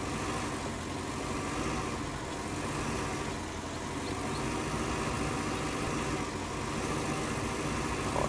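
A tractor engine in a farming simulator game hums steadily at an even idle-like drone for several seconds. It is constant and fairly loud, with no talking.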